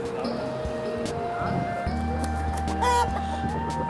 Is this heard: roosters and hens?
yes